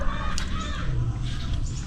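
Backyard chickens cluck and call at close range in an outdoor setting, with a steady murmur of voices mixed underneath.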